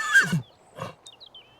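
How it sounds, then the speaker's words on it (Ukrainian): Betty, a horse in The Sims, gives a soft short whinny and snort, close and quiet, followed by faint high tones. "чулось тихе іржання Беті"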